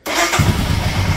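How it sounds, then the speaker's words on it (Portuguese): A Royal Enfield motorcycle, its fuel-injection warning light on, cranks and starts, the motor catching within a moment into a steady, close, fairly loud low rumble. "E vamos ligar a moto."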